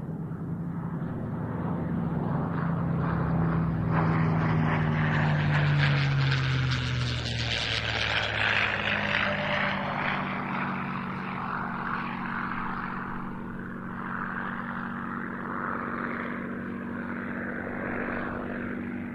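A Vought F4U Corsair propeller fighter in Korean War colours flies past at an airshow, its loud, rough piston-engine drone swelling, shifting in pitch as it passes, then fading into a sustained distant hum.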